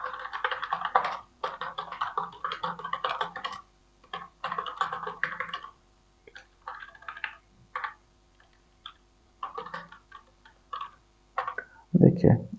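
Someone types HTML code on a computer keyboard, with bursts of rapid, close key clicks separated by short pauses and a louder clack near the end; someone talks in the background.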